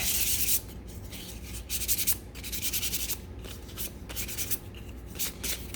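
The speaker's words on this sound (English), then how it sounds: "if you want to distress the edges, you can just kind of pull on that while you're sanding" Hand sanding along the edges of a shiplap wood sign: steady scratchy abrasive strokes, close and fairly loud, in uneven bursts with brief pauses between passes and no voices.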